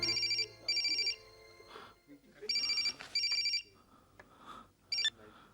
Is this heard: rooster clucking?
no